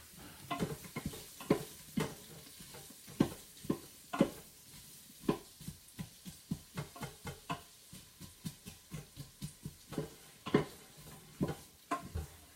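Curry cooks in a pan with a low sizzle, broken by a long series of quiet, evenly spaced clacks and scrapes from stirring, with no talk.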